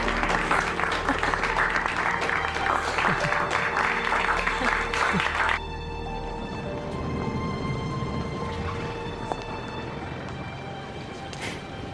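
A courtroom crowd bursts into loud, dense applause right after a not guilty verdict, a steady roar of clapping that cuts off abruptly midway, leaving a quieter murmur of room noise and distant voices.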